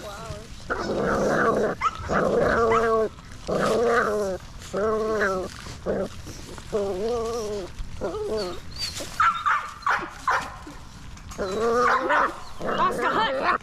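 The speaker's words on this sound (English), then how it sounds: "puppies eating their raw chickens" Seven-week-old Cane Corso puppies growl and snarl in a pack while eating raw chicken, with a continuous run of close, loud, overlapping growls and whines and short gaps between bursts.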